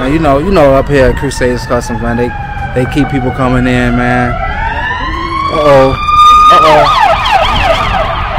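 An ambulance siren passes close by, its loud wailing, sweeping tone rising and falling over someone talking nearby outside a custom car shop.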